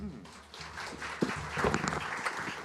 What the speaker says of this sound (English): Wow, round of applause.